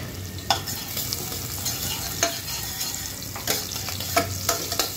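Chopped onions fry in a hot pan for a fish kalia, a steady close sizzle broken by several sharp scrapes and clinks of a stirring spoon against the metal.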